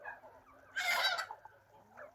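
Turkeys and chickens in a farmyard let out a brief burst of loud, close fowl calls, rising out of quiet yard ambience with fainter calls trailing after.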